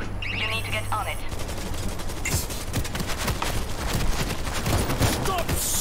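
Rapid gunfire in the zombie shooter World War Z, dense bursts of close automatic shots rattling continuously, with in-game voices calling out over the shooting.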